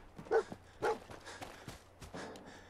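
Dogmeat, the dog companion in Fallout 4, gives two short, sharp barks close by, spaced about half a second apart, followed by fainter scuffling game sounds with no talking.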